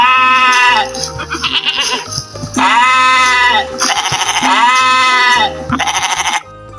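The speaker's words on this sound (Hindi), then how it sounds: "SHEEP, sheep। sheep मीन्स भेड़।" A sheep bleats loudly and close up in several long, wavering calls separated by short pauses, with no one speaking.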